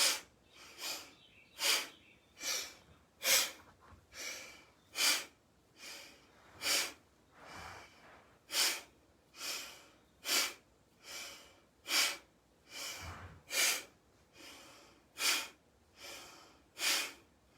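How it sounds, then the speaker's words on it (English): Steady yoga breathing, in through the nose and out, repeated about twenty times in an even rhythm, each breath a close, airy rush rising and falling with quiet gaps between. "we're going to kind of inhale through our nose here and then exhale"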